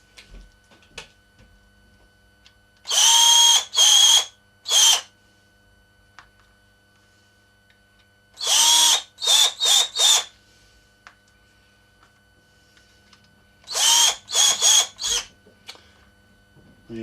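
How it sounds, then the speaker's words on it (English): Cordless drill spinning an RCBS outside chamfering tool against rifle cartridge cases, heard as three clusters of short whirring bursts, each with two to four quick runs, separated by near-silent pauses. "to do that, for the outside, once again, my trusty cordless drill with the RCBS outside chamfering tool."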